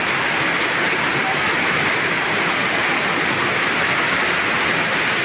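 A continuous heavy downpour in Muradnagar, Comilla, near a pond, roars as a thick, steady wash of rainfall, close and loud, without pauses or breaks.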